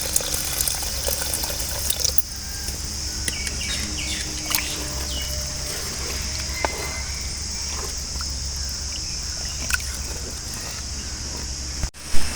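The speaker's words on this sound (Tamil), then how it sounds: "இப்போ தேவையான அளவு நம்ம தண்ணியும் ஊற்றிக்கலாம்" Water is poured into tomato kurma simmering in a pan, giving a steady, even hiss throughout with a few faint clinks and a brief knock near the end.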